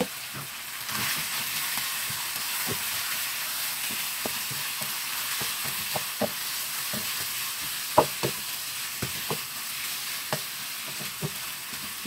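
Marinated beef sizzles steadily in a hot skillet with ginger, a constant hissing fry broken by frequent small pops and crackles of spitting fat, close up and with no talking.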